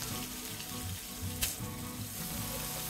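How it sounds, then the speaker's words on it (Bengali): Chopped onion dropped into hot oil with fried whole cumin, giving a loud, continuous close sizzle and a brief sharp hiss at the moment it hits the pan, with no talking. "জিরা ভাজা হয়ে গেছে, এবার এক কাপের মতো পেঁয়াজ কুচি দিয়ে দিব।"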